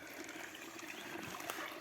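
Water flows in steadily along a riverbank, a continuous broadband rushing wash heard alone at moderate level without pauses.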